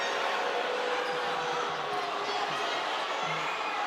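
Crowd noise fills a basketball arena at a women's college game, NC State Wolfpack hosting Rhode Island, as fans voice displeasure over a jump ball or kick ball call; a steady, fairly loud broadband roar with faint bounces beneath.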